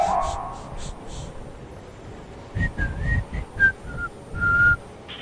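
A person whistles a few short, wavering notes in quick succession, close to a microphone during a Fortnite duo game session, with faint background noise in between.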